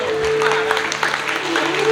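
Applause welcomes a trustee at a Navsari Leva Patidar community get-together: a moderate patter of clapping from the gathered audience over a steady electrical hum.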